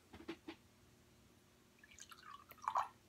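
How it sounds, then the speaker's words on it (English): Cherry lemonade sparkling water is poured into a glass, heard as a few faint drips at first, then a quiet fizzing trickle that grows toward a louder splash near the end, with no talking. "I'm going to pour it into the glass."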